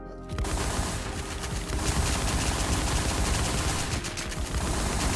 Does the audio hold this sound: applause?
no